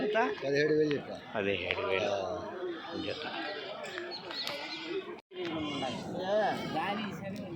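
Goats, billy goats and kids bleat repeatedly amid loud crowd chatter and bargaining at the Kadiri weekly goat and sheep market, with the animals calling close by.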